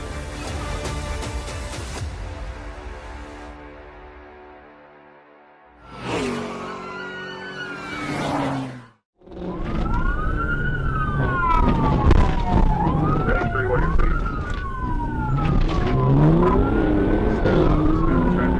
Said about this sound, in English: These are the most brutal police chases ever caught on Dashcam.